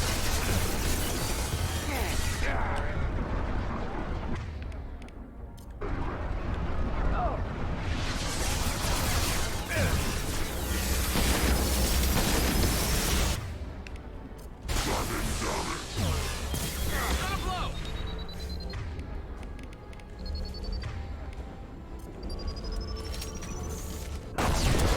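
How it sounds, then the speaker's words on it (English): A large explosion from a deployed incineration tank in the video game Mass Effect 2, heard as a sustained loud roar of blasts, crackles and whooshing debris with gunfire-like bursts amid continuous combat noise. "I was not expecting that big of an explosion"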